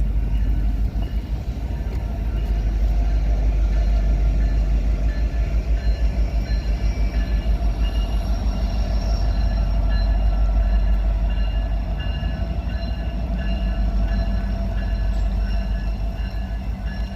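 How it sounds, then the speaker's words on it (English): A Norfolk Southern freight train led by a Penn Central heritage locomotive rolls steadily past, a loud continuous low rumble with rhythmic wheel clatter on the rails and a faint metallic squeal throughout. "This actually had a really cool Penn Central engine, heritage engine, that belongs to NS."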